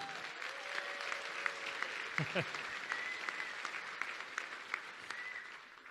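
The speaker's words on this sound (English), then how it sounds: "Richard Dolan, let's give him a big round of applause, everybody." An audience applauds steadily, a dense patter of clapping at moderate distance, with faint voices and whoops mixed in.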